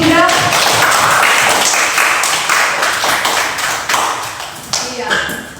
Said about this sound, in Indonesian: Iya, tepuk tangan kepada kelompok 3.